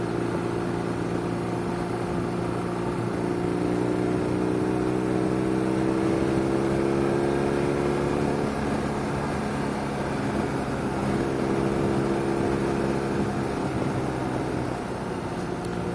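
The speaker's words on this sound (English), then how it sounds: "And the sound of that engine, those two Akrapovic exhaust cans, unbelievable." BMW R9T motorcycle engine running through two Akrapovic exhaust cans, a steady low droning rumble with slowly shifting pitch as revs rise and ease, heard continuously at a moderate distance.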